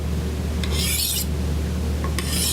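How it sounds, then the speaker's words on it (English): The back of a knife blade scrapes twice across a ceramic honing rod, short gritty rasping strokes over a steady low background hum. "you can tell that it's rubbing and grinding a little bit of the knife"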